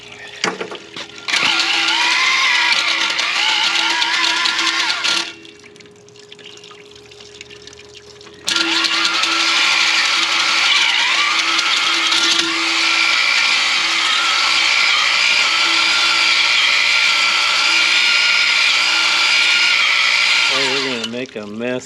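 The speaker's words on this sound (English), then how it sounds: "we're gonna hone this cylinder here" A power tool hones the bore of a D9 tilt cylinder, running as a loud, steady whine and rattle through most of the stretch, dipping briefly in the middle before resuming, with a wet, liquid edge throughout.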